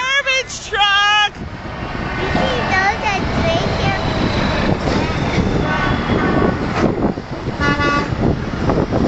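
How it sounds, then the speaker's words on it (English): A garbage truck passes in a Special Olympics truck convoy in Blaine, Minnesota, giving a few sharp horn toots at the start before its loud engine rumble rolls by, with excited people talking and cheering nearby. "The garbage truck!"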